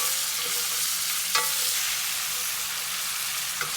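T-bone steak sizzles and crackles while searing and basting in a pan, a steady close hiss with occasional small pops and a brief spoon-like clink, no talking.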